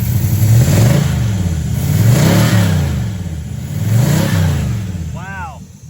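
A 1963 Chrysler 300J with carburetors runs rough and rich, revving up and down in three loud swells close by, before a short whirring sweep at the end. Someone talks faintly over it.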